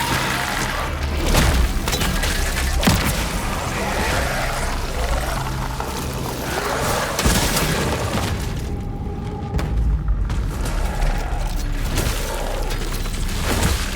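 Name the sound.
bombs exploding in the video game Cronos: The New Dawn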